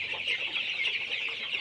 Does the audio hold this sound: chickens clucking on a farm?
yes